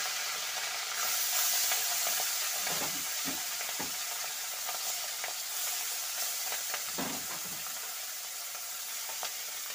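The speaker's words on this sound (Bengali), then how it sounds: "তেলটা কিন্তু গরম হয়ে গেছে, এবার আমি মাছগুলো ভেজে নেব।" Small mola fish frying in hot oil in a wok, a continuous bright sizzle and hiss, with occasional soft clunks and spatters as the pieces settle in the pan, heard close and without talk.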